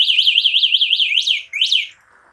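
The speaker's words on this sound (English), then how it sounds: "if someone's trying to tamper with your scooter while it's locked, it's going to sound the alarm" An anti-theft alarm on an EW-46 electric scooter wails loudly and close, a fast warbling siren pulsing about eight times before two longer sweeping whoops, then it cuts off abruptly.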